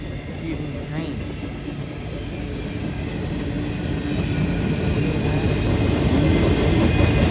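A CSX freight train rumbles past close by in Voorheesville, New York, a steady heavy roar with rhythmic rail clatter that builds in loudness toward the end, with voices underneath.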